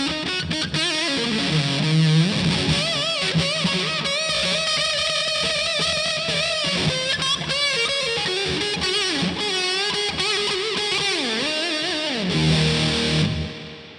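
An electric guitar played through a Way Huge Russian Pickle fuzz pedal with reverb, rendering thick, saturated sustained chords and bending lead lines that swell and linger in a wash of reverb, alone without talk.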